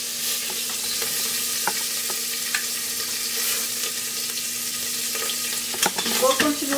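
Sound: pork ribs searing in a pan

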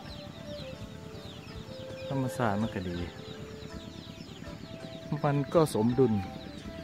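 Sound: chickens clucking while foraging

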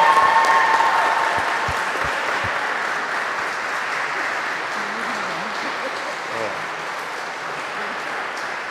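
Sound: applause

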